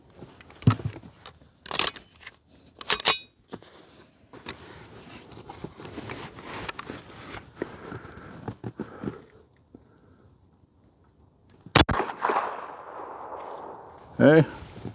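Rifle shots fired from a bench over a Garmin Xero C1 Pro chronograph: a few sharp, loud, isolated cracks spread across the stretch, with quieter handling noise and shuffling between them.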